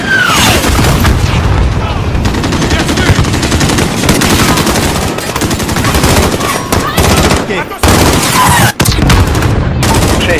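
Heavy gunfire in the video game Call of Duty Modern Warfare, loud sustained machine-gun bursts and booming shots filling the whole stretch, with brief gaps and a few distinct single cracks toward the end.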